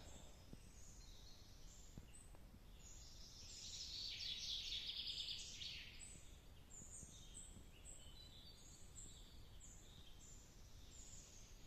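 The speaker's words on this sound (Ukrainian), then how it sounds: "Пташечки заливаються." Birds sing in a forest along a woodland road during a mushroom-picking walk, a steady bright chorus of chirps and trills that swells to a louder burst midway before settling back, with no talk.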